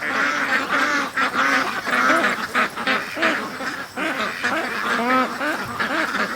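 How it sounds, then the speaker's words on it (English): Free-range ducks splashing about in creek water give off a busy run of loud, close quacks, overlapping calls coming in quick bursts with brief pauses. "the ducks are down there playing in the water"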